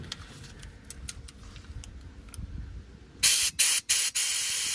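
Bursts of compressed air hissing from a car's air-ride suspension solenoid valve on the rear axle, several loud sharp spurts that stop and start, preceded by quiet ticking clicks.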